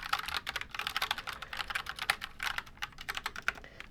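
Rapid, steady typing on a mechanical keyboard fitted with red linear switches, a Halloween-themed board, with dense clacking keystrokes close to the mic and no voices.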